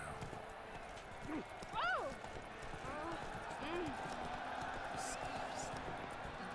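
Hooves of Roach, the horse in The Witcher 3: Blood and Wine, clip-clop steadily at a gallop under game ambience, with a brief whinny-like call and people talking in the background.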